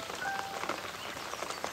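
Steady rain falls on surfaces outdoors at night, a dense, even patter of drops with no voices over it.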